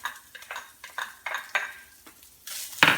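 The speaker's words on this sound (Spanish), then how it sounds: "y empiezas a mezclar tu picadillo con tu cebolla" Beef picadillo with chopped onion being stirred in a sizzling pan: a string of short scraping stirs with a utensil over steady frying sizzle, ending in a brighter clatter against the pan.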